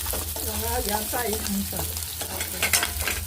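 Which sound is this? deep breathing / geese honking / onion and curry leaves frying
onion and curry leaves frying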